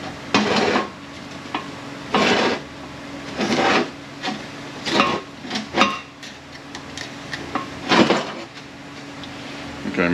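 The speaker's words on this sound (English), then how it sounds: "Get the piston out here in a minute. Pull the piston off the back here." Metal parts clank and scrape in a series of sharp knocks and rubs as a piston is pulled from a 6T70 automatic transmission during disassembly, with someone talking between the bursts.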